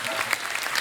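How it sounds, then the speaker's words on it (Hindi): A studio audience at a Hindi television show gives a short, full burst of applause, a dense wash of many clapping hands. "एक बार जोरदार ताली हो जाए।"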